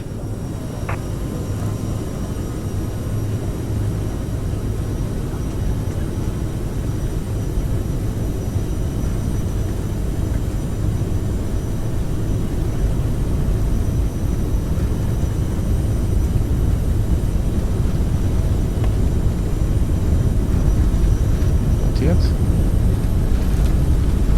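An Aerosoft CRJ 1000 regional jet in Microsoft Flight Simulator spools up for takeoff, a steady loud engine roar that builds slightly over the run.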